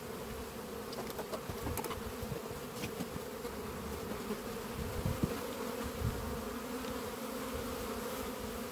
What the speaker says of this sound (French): Donc les abeilles vont continuer à revenir comme si c'était à leur endroit initial.